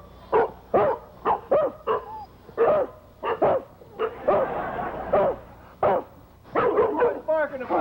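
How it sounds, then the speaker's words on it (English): A dog barks in repeated sharp bursts, some yips and whimpers among them, close and loud, with a voice talking between the barks. "What are you barking about?"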